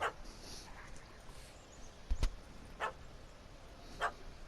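A dog barks in The Witcher 3, a few short, sharp yaps spaced about a second apart, heard faintly against a steady hiss of ambient game background with no talking.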